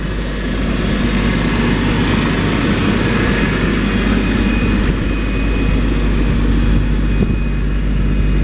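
A Challenger MT 765C rubber-tracked crawler tractor runs its engine steadily, a dense, continuous low rumble with a constant drone that stays near and loud throughout.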